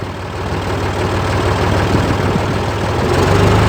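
A tiller engine driving an earth auger gives a steady, loud drone with a low throbbing rumble that runs continuously and rises slightly toward the end as the throttle opens.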